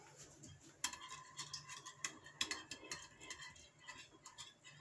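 A French toast batter of egg, vanilla and sugar being mixed in a bowl, with quiet rhythmic whisking and light clinks of a utensil against the side.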